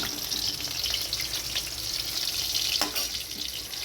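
Hilsa fish fry in hot oil, a constant close sizzle and crackle with occasional bursts of spatter, steady throughout and without any talk.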